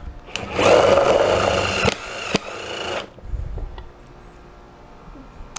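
A drill with a step bit whirs and grinds for a few seconds with uneven pitch as it bites into material while installing a trailer brake controller on a Jeep Gladiator, then cuts off, leaving light handling noises.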